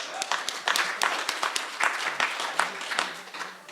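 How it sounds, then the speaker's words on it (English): An audience at a small songwriters' concert claps in a scattered, moderately quiet round of applause, individual claps distinct and uneven, with faint voices underneath. "Round of applause for y'all."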